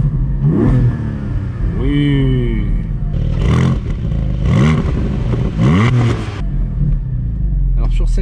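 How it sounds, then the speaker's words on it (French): A 2019 Porsche 718 Spyder with its 4-litre engine and active exhaust switched on revs in repeated rising and falling bursts, loud and close, with someone speaking briefly between the revs. "Je mets l'échappement actif. Hop, là ça va vroom vroomer encore mieux."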